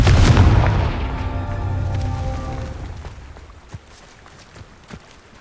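The Confringo fire spell in Hogwarts Legacy sets off a single deep, booming explosion that rumbles and slowly fades, followed by a few faint debris clicks.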